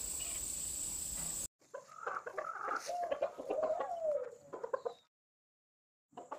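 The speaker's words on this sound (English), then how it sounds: "we have two different breeds of chickens." Chickens cluck and call softly nearby, with a high insect-like whine at the start and brief silences between bursts.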